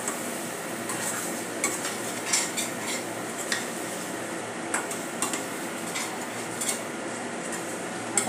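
Masala-coated potatoes are stirred for dum aloo, with a spoon scraping and clinking against the pan in irregular close taps over a soft sizzle.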